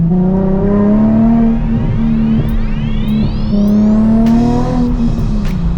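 A loud Nissan 350Z engine with an aftermarket exhaust revs and accelerates through rising gears, the exhaust note climbing in pitch and dropping between shifts, close and continuous.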